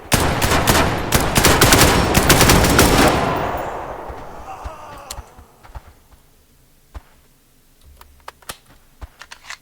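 Rapid automatic gunfire in the video game Scavland, a dense loud burst of shots for about four seconds that fades away, followed by scattered single cracks and clicks.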